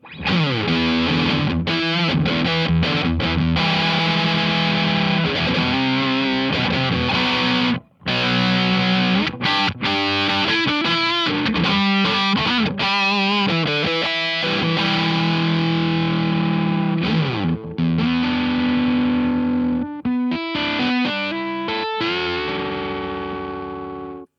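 Electric guitar played through a Mozztronics MS-1 distortion pedal set for a Marshall-style crunch, loud and continuous with thick sustained chords and riffs, brief gaps where notes stop, no talking.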